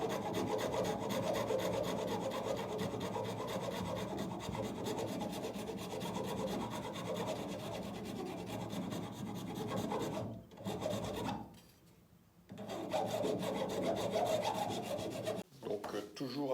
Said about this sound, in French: commencer à limer avec une inclinaison de 45 degrés jusqu'à arriver à mon rebord extérieur de face